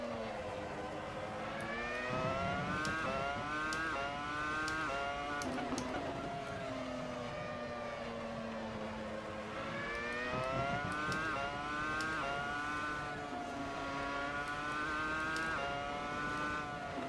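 Williams FW26 Formula 1 car engine racing in Assetto Corsa, a high-pitched V10 wail rising and falling steadily through gear changes and corners, loud and continuous with brief shifts throughout.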